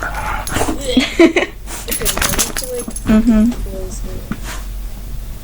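A pet dog makes odd whining, groaning and yipping noises close by, a string of wavering vocal moans with a person murmuring briefly among them.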